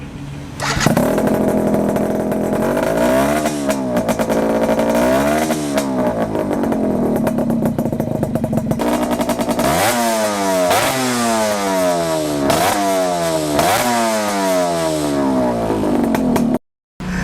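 A loud modified 1994 Suzuki Crystal motorcycle engine, road-race tuned, revs again and again, pitch climbing and falling in sharp bursts over a rough idle, with a brief cutout near the end.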